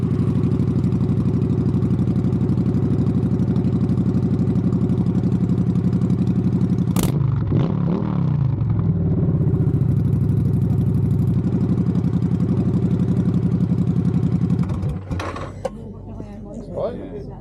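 Motorcycle with a loud aftermarket exhaust idling steadily and close at a bike night, a constant low throbbing drone with a brief clatter partway through before it cuts out near the end.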